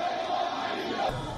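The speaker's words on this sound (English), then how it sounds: "The moment he started speaking, the crowd shouted him down." A large crowd roars and shouts down a cleric trying to speak at the site of a building collapse in Abadan, a dense, sustained wall of voices heard from a distance.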